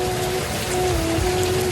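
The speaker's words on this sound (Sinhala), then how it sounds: "ඇහෙනව නේද ඒ සද්ද? හයියෙන් වහිනවා." Heavy rain pours down in a dense, steady hiss that stays close and loud throughout, with no voices.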